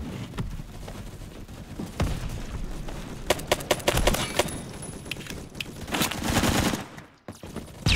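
An STG-44 rifle fires in Phantom Forces, a Roblox World War II weapon test place, in quick bursts and single shots with sharp cracks clustered mid-clip, fairly close, amid other distant gunfire and a brief lull near the end.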